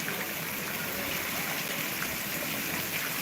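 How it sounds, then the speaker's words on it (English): Water pours steadily from the nose of a horse statue fountain in Salzburg, a faint, even splashing rush with no pauses, heard alone at a modest distance. "There's actual water coming out of the nose of the horse."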